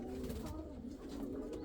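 Pigeons in a breeding loft holding fancy feather-footed birds, cooing in continuous overlapping low throaty rolls close by, with faint flutters and shuffling.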